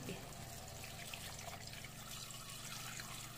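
Water pours steadily into a pot of pork for sinigang, a continuous trickling splash close by, with no voices.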